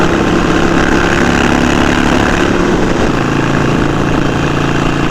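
Harley-Davidson Sportster 1200 motorcycle engine on a highway ride, a steady loud low rumble with constant wind roar, unbroken throughout and with no talk.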